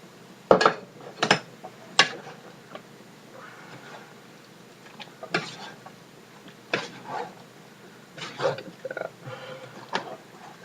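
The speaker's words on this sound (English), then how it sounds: "Just mix it all together." A spoon clinks and scrapes against a bowl while chopped tomatoes are stirred together, giving a string of sharp, close knocks with quieter shuffling in between.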